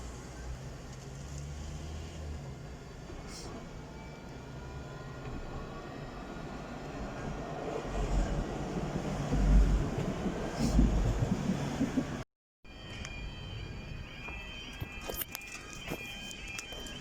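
A tram pulls into a stop at track level, its steady rumble and rolling noise building as it approaches, with a brief dropout and then higher squeals and clanks as it arrives.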